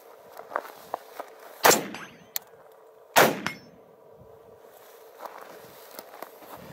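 Two sharp CMMG Mutant rifle shots ring out a second and a half apart at moderate distance, each with a metallic clang and short echo, amid scattered clicks and footsteps.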